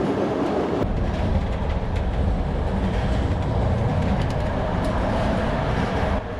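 Overnight train from Bucharest to Budapest rolling on rails, a loud continuous rumble and rattle of the carriage with faint rhythmic clicks, steady throughout and heard from inside the car.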